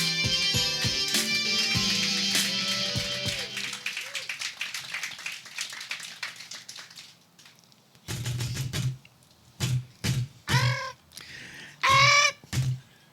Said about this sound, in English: Squawking is heard from within